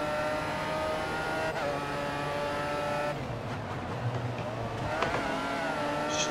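An F1 2014 video game race car whines at high revs as it overtakes a Lotus, engine pitch sweeping and shifting, with a second car's tone passing close by amid constant loud racing noise.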